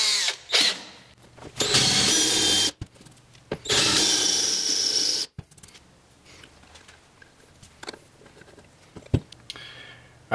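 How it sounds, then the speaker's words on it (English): A power drill with a countersink bit bores into a hole on a scooter part, in several loud, short whirring bursts separated by pauses, followed by quieter handling clicks and taps. "And this time I'm using the drill, that way I just have a little bit more control over it."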